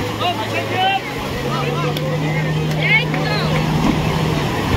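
Speedboat being launched at Digha beach, its engine a steady low drone throughout with wind and surf hiss, while people talk in the background.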